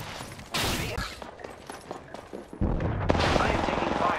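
Apex Legends firefight with the character Wraith, bursts of rapid gunfire and impacts, dense and close, with a louder sustained volley toward the end under game voice lines.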